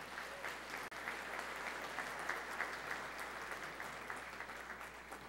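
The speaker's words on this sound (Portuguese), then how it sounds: "Valdomiro Bariene Hortêncio, esse merece uma salva de palmas." Steady applause from an audience at a special legislative session, a dense patter of many hands clapping at moderate distance, continuing evenly without voices.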